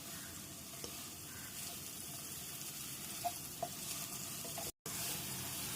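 Egg curry cooking in a pan: a soft, steady sizzle with the occasional scrape of stirring, faint and continuous, with a brief cut in the sound near the end.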